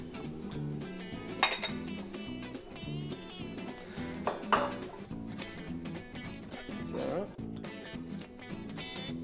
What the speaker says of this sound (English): A nice little whisk makes life easy.